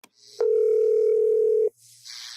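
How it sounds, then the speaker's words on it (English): A home phone answering machine gives a single loud, steady tone lasting over a second, with faint noise before and a quieter hiss after. "change the voice message on the answering machine for their home phone"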